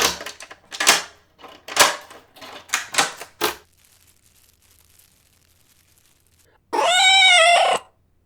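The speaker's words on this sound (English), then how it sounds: "he heard the same rustling movements from outside, followed by a loud mew." In an audio drama, a quick series of clacks and rustling movements gives way to a pause, then a single loud, drawn-out cat meow rings out alone.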